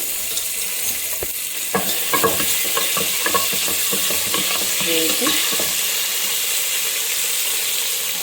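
Whole spices, crushed cardamom powder and green chilies fry in oil inside a rice cooker pot for bagara rice, a close steady sizzle with a cluster of clinking, scraping stir strokes in the middle, and no talking.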